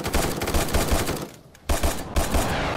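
Bursts of rapid gunfire from the video game Surviv.io crackle in quick repeated volleys, pause briefly, then resume, loud and dense with no voices.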